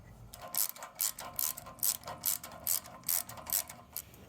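An old, cheap wrench, ground thinner, installs a new carburetor on a Wen Power Pro 3500 generator. About nine close, crisp bursts of ratchet clicking come in a steady back-and-forth rhythm, with no talking.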